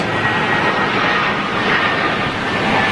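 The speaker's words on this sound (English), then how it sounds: "It's another aircraft." A fixed-wing aircraft passes at Munich Airport, its engine roar a steady, fairly loud broadband rush that holds through the whole stretch with no talking.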